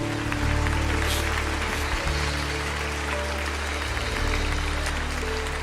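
Congregation applauding in a Portuguese-speaking church service, a soft, steady patter of clapping heard beneath sustained music or organ tones.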